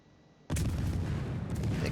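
A sudden heavy boom of naval gunfire in World of Warships, aimed at the cruiser York, breaks a quiet hum and rolls into a long rumbling roar, followed by a second, softer report near the end.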